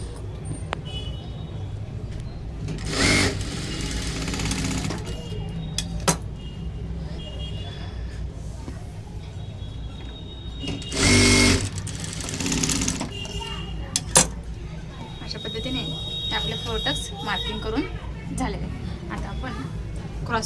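Domestic sewing machine stitching a size 36 blouse, running in a few short loud bursts over a steady motor hum, with quieter gaps of handling between runs.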